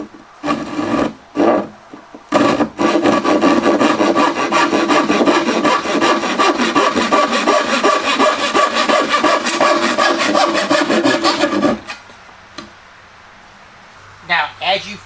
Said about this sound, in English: you're going to be sawing not plumb to gravity